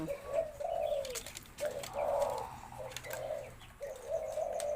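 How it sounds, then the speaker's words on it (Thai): A spotted dove coos in a repeated rhythmic series of seven soft, low hooting notes, fairly faint and steady, with a few faint chirps in the background. "เพราะว่าเจ้า YouTube เขาขันที่ 7 ถึง 9กุก"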